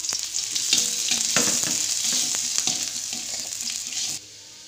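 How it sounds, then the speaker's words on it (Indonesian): Shallots, garlic and large chilies sizzle and fry in hot oil, a loud, steady crackle with light stirring clatter, close up, ending abruptly. "Kita panaskan minyak, kita tumis bumbunya, bawang merah, bawang putih, dan cabai besar."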